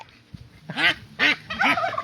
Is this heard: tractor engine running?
no